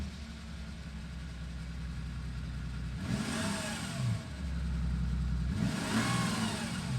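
A 6-litre diesel engine idles with a low rumble, then revs hard twice in loud, close bursts, each rising and falling before settling back.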